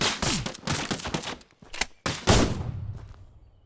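Pistol gunfire in the video game Outbreak Island: a string of loud, close, sharp shots in quick, uneven succession, then a final heavier blast that trails off into a fading echo.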